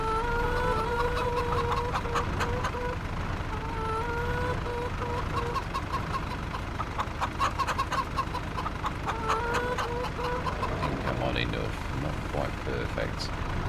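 Chickens cluck repeatedly in the Farming Simulator 25 game, a steady farmyard chorus of short calls over constant background hum, with a person talking over it.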